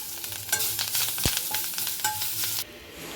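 Agase (sesbania) leaves are sautéed in ghee in a pan, with a steady loud sizzle broken by repeated spatula scrapes and knocks against the metal. There is no voice, and the sizzle cuts off abruptly near the end.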